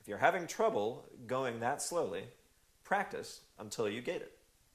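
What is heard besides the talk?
No everyday noise stands out behind the speech.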